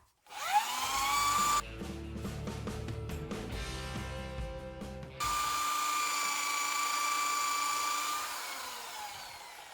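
A powered wire brush scours rust from an Audi A2 brake drum: a steady high motor whine throughout, with a few seconds of harsh, loud grinding and scraping in the middle when the brush bites the metal.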